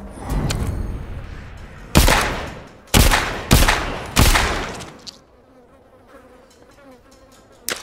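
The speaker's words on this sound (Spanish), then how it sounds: "Estoy oyendo tiros, ¿verdad?" Gunfire in the video game The Walking Dead: Saints & Sinners – Aftershocks, a loud burst of shots followed by several separate heavy reports with decaying tails, then a quieter stretch with faint background noise and no talk.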